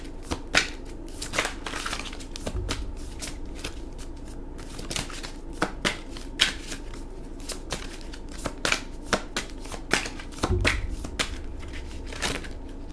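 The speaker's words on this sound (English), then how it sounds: "Matt, pick a card right quick." Tarot cards being shuffled by hand: a steady run of crisp riffles and sharp snapping flicks repeating through the whole stretch, close and fairly quiet, with no talking.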